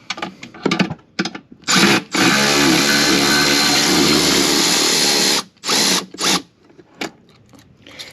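A power tool or ratchet works loose two 12mm bolts on the reverse bucket of a 2022+ Kawasaki Ultra 310 jet ski, with a loud sustained whirring run of several seconds between shorter bursts and clicks.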